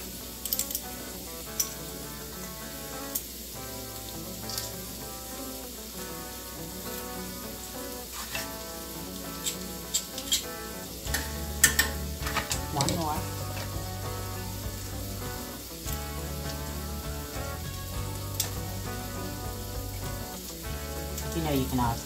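Garlic sizzling and frying in a pan while cooking a green bean casserole, a steady close crackle with occasional stirring clatter and pops, continuing throughout.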